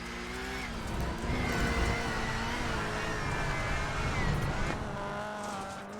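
Onboard a rallycross race car at Sonoma, the engine snarls loud and close, its pitch climbing and dropping with gear changes, alongside tyre scrabble over the gravel and dirt.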